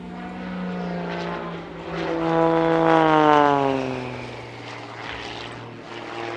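Propeller aerobatic aircraft manoeuvring at an airshow, its engine drone rising and falling in pitch as it swoops through a hard negative-G push, loudest midway, steady and alone with no talk.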